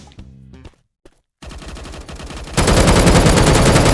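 Loud rapid automatic gunfire in a mobile shooter video game: a short burst, a brief gap, then sustained dense firing building to a full roar, with no talk.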